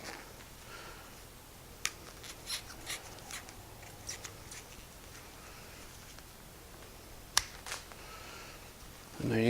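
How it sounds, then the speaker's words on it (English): Garden shears snip through material, giving a few faint, sharp clicks spaced out over several seconds against a quiet background, with one louder snap near the end. "I'm just going to use some garden shears right here to cut it"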